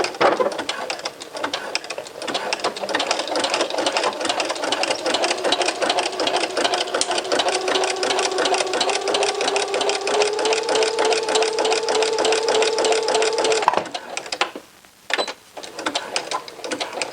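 A sewing machine runs a zigzag stitch along a T-shirt in one steady, near, continuous run of about fourteen seconds, then cuts off, leaving brief quiet and light handling.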